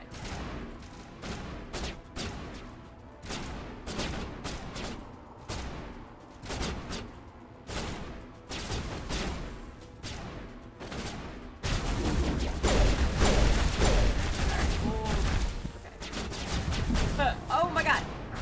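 Gunfire in the game Mass Effect Legendary Edition: repeated bursts of shots at an irregular rhythm, thickening into dense, continuous firing in the latter part, with speech mixed in.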